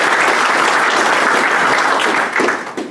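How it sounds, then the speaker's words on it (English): A crowd at a Govhack event applauds loudly and continuously, the clapping thinning and fading toward the end. "Let's give state government a clap"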